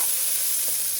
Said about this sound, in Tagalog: Ngayon po ay luto na ang ating sibuyas